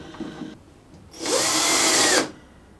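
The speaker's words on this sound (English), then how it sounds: "all I need to do is pop a couple of screws in there" A power drill drives screws through the small keyholes of a power strip fixed to a router table rail, one steady whirring burst of about a second, loud and close, after a quieter stretch of handling.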